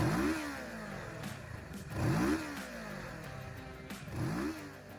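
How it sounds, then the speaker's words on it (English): A Kawasaki Ninja 650R, a 649 cc liquid-cooled DOHC parallel twin, revs repeatedly, rising and falling in three rhythmic swells over a steady idle. "Number 15, Kawasaki Ninja 650R parallel twin."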